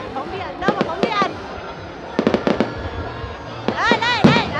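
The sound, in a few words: fireworks exploding at a display in Hai Duong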